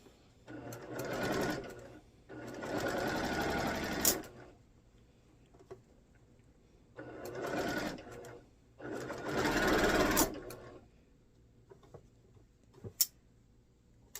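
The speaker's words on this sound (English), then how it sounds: "I'm just going to start here with my sew pile and work my way down until everything is sewn" A sewing machine stitches pieced quilt blocks in two pairs of steady whirring runs, with quiet gaps and faint ticks between them. It sounds close, and no one speaks.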